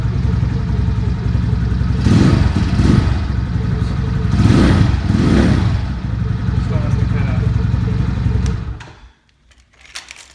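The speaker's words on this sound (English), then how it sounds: "So that's the warm up." A 250 motorcycle engine runs steadily while warming up, a loud close rumbling drone with a couple of swelling revs, then cutting out abruptly near the end, leaving near silence.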